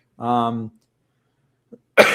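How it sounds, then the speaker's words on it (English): A man gives one short, voiced cough, then a brief silence and a faint click before he starts talking close to the mic. "I've had this daylight savings time cough since I came back."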